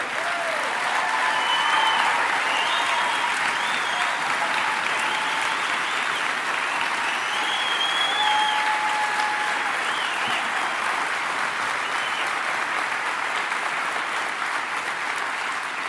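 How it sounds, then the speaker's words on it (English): A standing audience applauds steadily and loudly, a dense wash of clapping filling the whole stretch with a few whoops and cheers rising over it. "So why are you on your feet applauding?"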